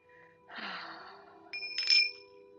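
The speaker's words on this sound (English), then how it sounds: "Love tinksa bells." Tingsha bells ring with bright, sustained metallic tones, and a second ringing strike swells near the end over a soft breathy sound.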